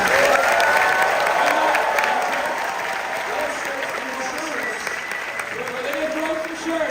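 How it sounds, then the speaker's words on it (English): Sustained audience applause at a film screening at the Toronto International Film Festival, a dense wash of clapping that fills the room steadily for the whole stretch, with some background crowd voices mixed in. "please give them a round of applause."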